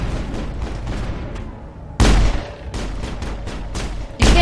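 Gunfire in the video game Mass Effect, sharp loud blasts breaking in at two points over a dense, steady bed of rapid shots and battle noise.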